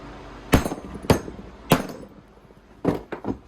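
Hammer whacking a deep socket against the pulley of a Craftsman LT2000 lawn tractor, five sharp metallic blows, three spaced evenly and then a quick pair, close and with no talking.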